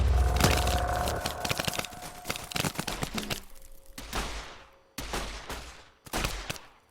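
Bolt-action rifles fired by ants in the video game Ants With Guns crack out in dense, overlapping volleys, then settle into a few separate bursts with short gaps between them.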